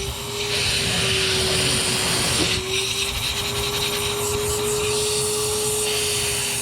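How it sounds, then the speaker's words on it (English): Small shop vac drawing old brake fluid out of a Honda CRX Si's stock master cylinder, a steady loud whining drone with one brief slurping break partway through. "I'm going to try to get most of the fluid out of it by a little shop vac."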